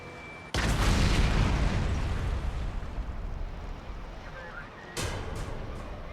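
A bomb goes off with a sudden loud boom and long rumbling roar that slowly decays, followed by a second blast-like burst near the end, all without speech.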